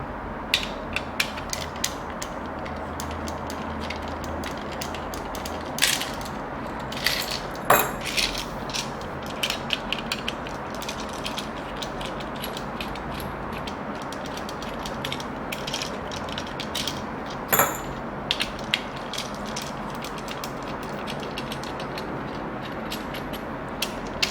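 A plastic curtain rail fitting from a budget Daiso rail kit is unscrewed, giving bursts of dense ratcheting clicks and small creaks, with a few sharper snaps standing out over a faint background and no speech.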